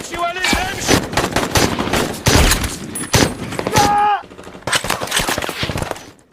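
Dense bursts of automatic gunfire from an ambush on a blockaded road in an Iraq war film, rapid volleys and loud close shots filling the scene with brief gaps between them.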